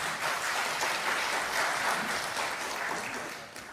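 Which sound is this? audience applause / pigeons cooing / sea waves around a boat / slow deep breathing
audience applause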